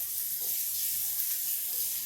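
Soft, steady sizzle of green chili and garlic relish frying in a pan, a faint even hiss with no talking.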